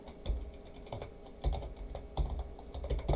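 Computer keyboard being typed on in quick, uneven bursts of close clicks and taps, with short gaps between words, while entering field names in a database program.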